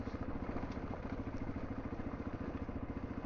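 A 1994 Honda XR250L dual sport motorcycle engine runs on a mountain ride, a steady rapid single-cylinder thump with a rhythmic pulse and a muffled, wind-dulled tone, no voices.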